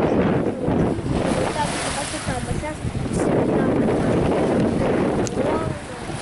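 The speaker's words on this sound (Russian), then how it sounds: "Да, вот волны." Sea waves rolling in over rocks along a shore under strong wind, a loud rushing surge with heavy microphone buffeting, swelling and easing in slow pulses, with a person talking faintly at moments.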